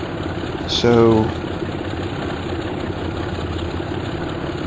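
Locomotive engine idling in the OpenRails train simulator game, a steady low rumble that runs through the whole stretch, with a short spoken word near the start.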